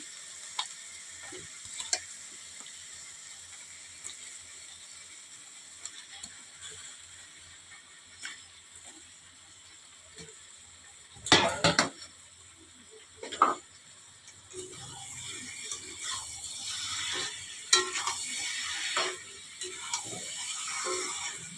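Meat going into a pan of spices and frying, a faint steady sizzle broken by clattering spoon strikes and scraping as it is stirred, with a louder hiss building toward the end.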